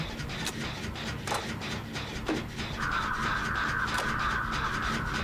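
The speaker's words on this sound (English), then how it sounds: "Someone's upset the crows." Crows caw in the Dead by Daylight horror video game, a few harsh calls rising over a steady game soundscape of low ambience and a sustained tone.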